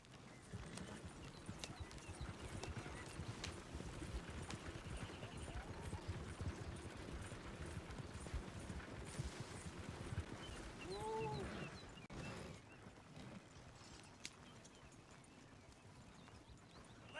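Horse hooves clip-clopping at a steady gallop in Red Dead Redemption 2, continuous and fairly close, with a brief whinny near the end and ambient outdoor game sound underneath.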